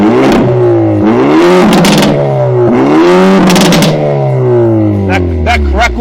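Hyundai i30 N Performance N-Drive Limited Edition engine revved hard several times, the pitch sweeping up and falling back, with sharp exhaust crackles and pops on the overrun, loud and close.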